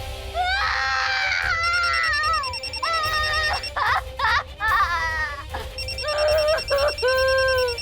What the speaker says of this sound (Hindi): दादी जी का फोन आ रहा है।